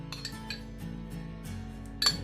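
Utensil clinking and tapping against a bowl while mixing a batter of eggs and oil, a few bright clinks with a louder strike near the end, close up and without speech.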